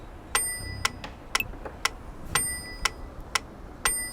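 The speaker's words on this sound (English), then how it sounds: "Now you can hear the chime is coming in on the 4th beat, so that's set to 4/4 time." A Yamaha P-45 digital piano metronome ticks in 4/4 time at an even, moderate tempo, and a brighter chime marks every fourth beat. The sound is close and clear over a faint background with no talking.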